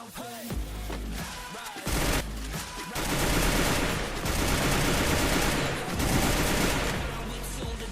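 Gunfire in the Garena Free Fire video game as the player flies in at an enemy squad. Dense, loud bursts of automatic fire run almost continuously, with a few sharper bangs and no talk.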